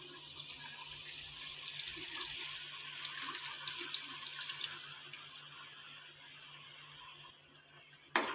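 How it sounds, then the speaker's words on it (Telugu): Tamarind juice poured into a sizzled tomato curry gravy for egg curry, a steady watery splashing pour running continuously at close range, ending with a brief knock. "ఈ చింతపండు రసాన్ని వేసుకోవాలి"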